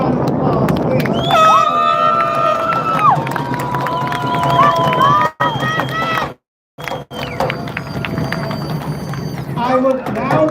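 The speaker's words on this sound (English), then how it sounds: "One more round of applause, please." A graduating class crowd at a Milpitas High School ceremony cheers and shouts loudly and continuously, with whoops and children's voices over a dense roar of clapping, briefly cut by a couple of dropouts before the noise resumes.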